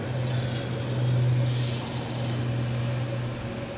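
A JetBlue airliner at Boston Logan airport gives a steady, moderately distant engine drone with a low tonal hum that swells briefly then holds level, with no voices.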